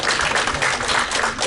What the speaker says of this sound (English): Get everybody to take a round of applause.